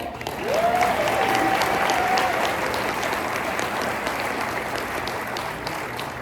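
Convention audience applauds at an international gathering in Niagara Falls, Ontario, a loud, full wash of clapping that swells quickly and holds steady before easing slightly, with a brief whistle-like tone near the start.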